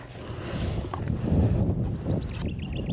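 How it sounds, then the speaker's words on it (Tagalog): Strong wind blows across an open farm field where plastic mulch is being laid, a loud continuous rumbling roar with gusty buffeting on the microphone and no talk. "Malakas po ang hangin dito ngayon,"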